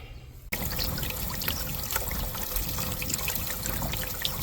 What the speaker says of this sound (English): I'll call Madison and have her turn the water on for a little bit so we can see how it goes.